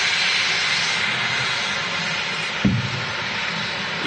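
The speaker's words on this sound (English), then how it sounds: "easyJet A320 in from Nice, about to touch" An easyJet Airbus A320 jet arriving from Nice to land at Manchester Airport, a steady broad roaring rush of engine noise from some distance, with a short thump partway through.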